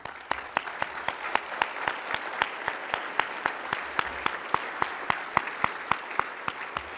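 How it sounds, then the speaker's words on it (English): Audience applause in a hotel ballroom during a city's State of the City address, heard as a steady, evenly spaced run of sharp claps over a softer wash of clapping, holding at an even level for about seven seconds with no talk. "And a great round of applause also included is for all the servers"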